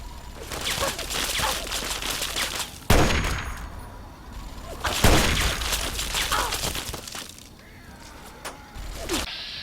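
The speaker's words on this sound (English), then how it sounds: "The minigun though." A video game minigun lets out sustained, heavy rattling bursts, with sharp loud onsets that break off and then start again, alongside metallic clangs and shattering hits.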